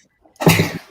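One sudden loud sneeze up close, a sharp burst that cuts out after under half a second, following near silence.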